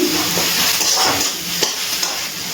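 Tomato being stirred and cooked down in a pan, a steady soft sizzle with spoon scrapes and stirring rustles over about two and a half seconds, no talk.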